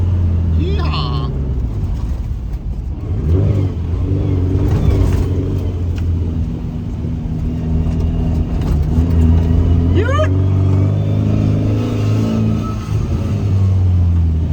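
A Suzuki Samurai on the road, its engine droning and revving steadily through the cab, with people chatting and laughing loudly over the motor.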